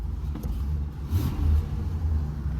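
The engine of a 1990 Oldsmobile Custom Cruiser station wagon, left parked for weeks, burbles at start-up with a low, uneven rumble that swells briefly, close by and with no talk.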